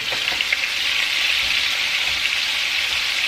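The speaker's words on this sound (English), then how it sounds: "So far I have my pork cooking and I have my salsa boiling." Chunks of pork stew meat fry in a pan for a Mexican green-sauce dish while salsa boils nearby, giving a constant, close hiss and sizzle with faint crackles throughout.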